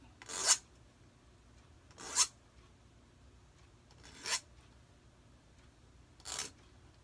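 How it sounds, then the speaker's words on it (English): A hand file rasps a burr off a cut wire end on a wire-wrapped olive fork with a Herkimer diamond, giving four separate close scraping strokes about two seconds apart in quiet surroundings. "Taking off that, that burr and just rough shaping it."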